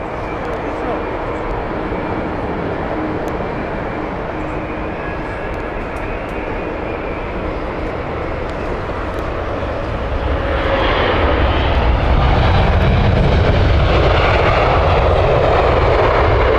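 El Al airliner on the Tel Aviv flight at Heathrow Airport, a steady broadband jet roar that swells louder toward the end as it passes close by.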